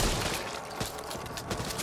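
Gunfire in the co-op zombie shooter Back 4 Blood, heard as a dense, continuous crackle of shots with slightly stronger bursts, fairly quiet and without talk.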